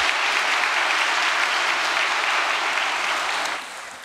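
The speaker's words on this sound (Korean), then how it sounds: "다시 한번 박수 한번 보내드릴까요?" Audience applauding after a closing report speech at an event, a dense steady clapping that fades near the end.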